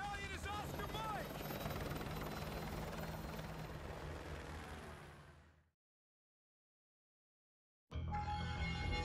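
A helicopter from the video game Call of Duty: Modern Warfare 2 Remastered roars loudly with thumping rotor and engine noise, fades out into silence, then cuts back in abruptly near the end.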